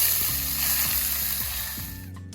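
Minced onion fries in oil with whole spices for chana masala, giving a bright, constant crackling hiss with low bubbling pops, loud and close, cutting off abruptly at the end, with no speech.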